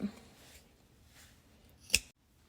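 Scissors snip the yarn ends of a crochet Easter basket, a single sharp close cut after some soft handling rustles.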